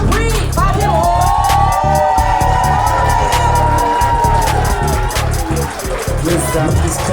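A live audience at a poetry slam in Greenville, SC claps and cheers loudly, with whoops and hollers riding over a continuous crowd roar throughout.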